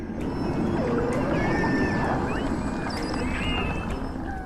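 Beluga whales sing underwater in a steady stream of rising and falling whistles, chirps and squeals, layered over a constant low wash of water noise with no pauses.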